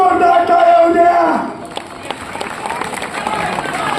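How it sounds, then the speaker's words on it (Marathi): Crowd at a kabaddi match between Indian Navy and South Central Railway in Mumbai, an announcer's voice first, then a broad wash of cheering and clapping from the stands. "एकदा जोरदार टाळ्या होऊ द्या."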